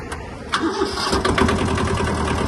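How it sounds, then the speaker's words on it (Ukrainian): A Japanese Kubota B-10 mini diesel tractor, glow plug pre-heated, starts with a short cranking burst and catches, then settles into a loud, close, rough idle. "Свіча накалу трохи нагріється і трактор дуже легко заведеться."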